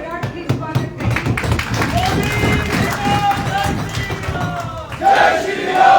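A large crowd at a public event in Una welcomes the Prime Minister with loud cheering, shouting and scattered clapping. Voices rise into a roaring swell near the end, and someone speaks over the noise.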